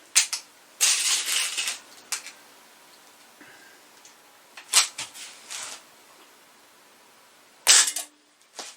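A Diana Trailscout .177 air rifle fires 5.5 grain pellets, heard as several sharp, close cracks and clicks spread irregularly across a quiet stretch, with short rustling handling noises between them.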